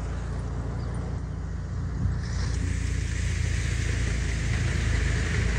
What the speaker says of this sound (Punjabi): ਟਰੈਕਟਰ ਦੇਖੋ ਕਿੰਨੀ ਦੂਰ ਚੱਲਦਾ